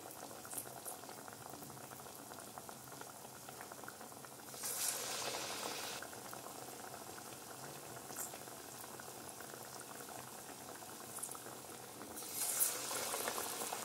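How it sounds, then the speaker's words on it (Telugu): Palm fruit fritters (thati appalu) frying in oil over a low flame, a steady soft bubbling sizzle throughout with two brief louder surges of hissing, no voices. "లో ఫ్లేమ్లో వీటిని ఫ్రై చేసుకోవాలన్నమాట."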